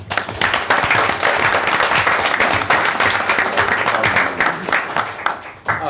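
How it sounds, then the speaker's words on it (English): A room at a town council meeting breaks into a round of applause for the head of the Public Works Department, loud, dense clapping from many hands that runs steadily for several seconds before tapering. "Let's give him a round of applause."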